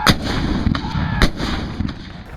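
Cannon fire from a Civil War battle reenactment at Cedar Creek: a few heavy booms spaced irregularly, with rumbling echoes between them, loud and close.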